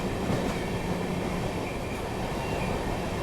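Sairang Rajdhani express train running at speed through Barsoi Junction in India, with a loud, steady rumble of wheels and carriages and a clattering rhythm close by.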